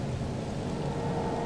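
Steady rain hisses with a low rumbling undertone, like a distant thunderstorm, in the video game The Sinking City, a continuous wash of sound with no talking.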